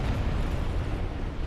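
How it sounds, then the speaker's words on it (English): The Stray Demon in Dark Souls sets off a sustained explosion, a loud, dense low rumble that holds steady with no clear start or end. "The explosion subside."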